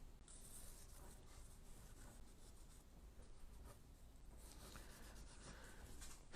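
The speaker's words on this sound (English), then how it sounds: "so I'm just kind of sketching in." A drawing tool sketches in an outline before painting during an art class, making a faint, continuous soft scratching and rubbing close by, with no talk.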